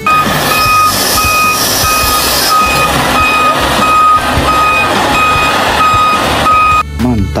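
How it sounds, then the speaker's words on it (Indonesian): A toy tow truck sounds loud, evenly spaced reversing beeps over a rough engine rumble, repeating steadily for several seconds before a brief clatter at the end. "Di sini ada mobil derek,"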